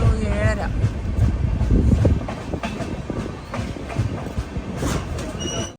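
Aronai Express pulling into Bolpur Shantiniketan station, wheels squealing and carriages rumbling as it slows, with scattered clanks and station voices in the background.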